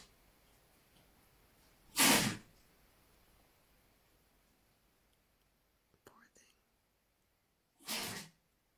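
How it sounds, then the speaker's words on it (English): An old dog sneezes sharply twice, several seconds apart, with a faint snort or snuffle between, close by in an otherwise quiet room. "He does weird things and sneezes and stuff."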